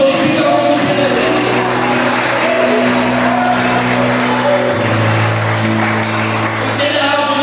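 A church congregation at a youth service in Goiás clapping, a dense, steady wash of applause that runs for several seconds alongside sustained music tones.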